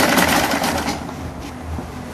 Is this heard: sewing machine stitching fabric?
yes